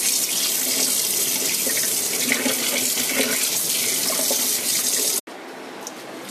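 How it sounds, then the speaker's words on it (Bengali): Water runs steadily and loudly from a kitchen tap as sandy leafy greens are washed, a continuous splashing rush that cuts off abruptly near the end, leaving a quieter trickle and rinse. "এবার ভালো করে শাকটা ধুয়ে নিচ্ছি, কারণ অনেক বালি থাকে শাকের মধ্যে।"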